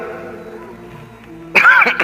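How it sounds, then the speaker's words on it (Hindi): A man clears his throat and coughs during a religious gathering, a short harsh burst near the end of the clip following a quieter sustained tonal background. "मैनू खांसी का सिलसिला हो गया"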